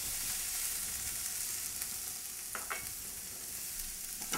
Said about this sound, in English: So you want to saute this around a little bit, get all the flavors blended.